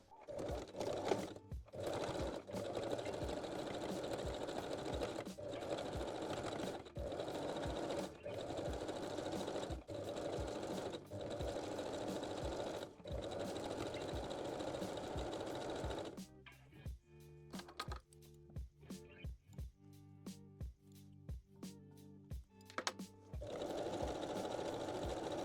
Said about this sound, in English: And stitch the second side as well.